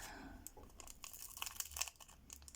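A few crisp paper snips and crinkles, close and quiet, spaced irregularly with small rustles between them.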